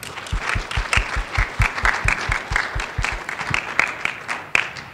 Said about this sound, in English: I'd like to get another round of applause for all the speakers today